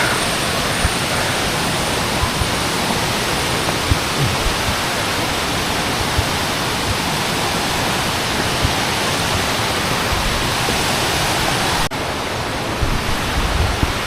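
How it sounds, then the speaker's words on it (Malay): A loud, tall waterfall in Malaysia roars continuously up close, a dense rushing hiss that drowns everything else and stays steady throughout. "Sebab bunyi air ni kuat sangat."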